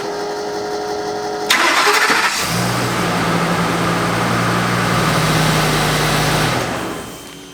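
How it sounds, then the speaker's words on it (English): A V10 engine in an F53 motorhome chassis cranks briefly with a rough, rising whine, then catches and settles into a steady, close, droning idle that holds several seconds before fading. "I'm going to start the engine, let it run for about a minute"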